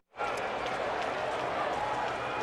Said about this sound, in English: the home crowd making a lot of noise as Pudge Rodriguez stands in